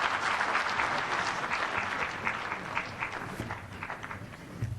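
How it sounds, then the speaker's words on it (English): An audience applauds a speaker at the Uganda Law Society launch of the International Bar Association, with dense, steady clapping that holds throughout and thins slightly near the end. "Please, another round of applause for Sise."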